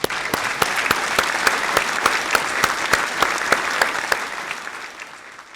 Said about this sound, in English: Let's give all our winners a big round of applause.